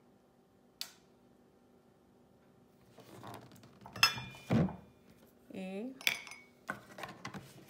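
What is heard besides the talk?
spoon clinking in a bowl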